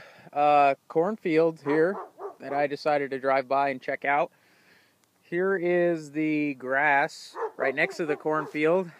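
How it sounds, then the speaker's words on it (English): A dog barks and yips beside a cornfield and grassy field outdoors, mostly under a man's continuous speech, with the barks partly masked by his talking. "Sorry for the barking dog."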